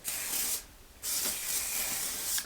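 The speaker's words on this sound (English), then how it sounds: "sprayed some of my heat protectant on" Heat protectant spray is misted onto a section of hair in two hissing bursts, a short one followed by a longer spray after a brief pause, close and fairly soft.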